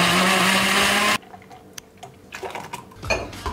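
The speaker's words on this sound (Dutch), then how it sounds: "En dan gaan we weer blenden hoor." Loud close-up roar of a blender mixing a fitness shake, which cuts off abruptly after about a second. Quieter clinks of dishes and kitchen handling follow.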